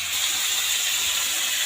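Crabs frying in oil in a pan, a steady, even hiss of sizzling that holds unchanged throughout, close and moderately loud, with no voices.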